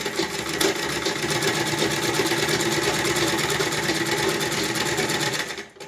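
A sewing machine stitches a plain frock in a fast, even, continuous mechanical whir for several seconds, close and steady, then stops abruptly.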